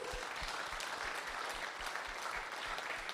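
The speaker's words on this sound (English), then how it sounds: "So I want to another round of applause for all of them," Sustained audience applause for artists at a graduation exhibition evening, steady dense clapping across the whole stretch with no talk.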